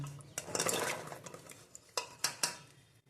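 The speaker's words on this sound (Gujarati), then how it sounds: "હવે આપણે આની અંદર સરગવાની શીંગું નાખી દઈશું." Drumstick pods drop into a metal pot of water in a Gujarati kitchen, giving a cluster of clattering knocks followed by a few separate, sharp clinks close by.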